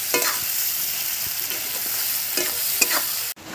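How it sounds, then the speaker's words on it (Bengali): Onions frying in hot oil in a pan on a home stove while a Bengali fish curry is cooked, a steady broadband sizzle with a few stirring scrapes, close and continuous with no talk. "তেল গরম হয়ে গেছে, পেঁয়াজটা দিয়ে দিচ্ছি।"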